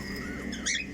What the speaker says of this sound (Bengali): বাজরিগারের বেবি আছে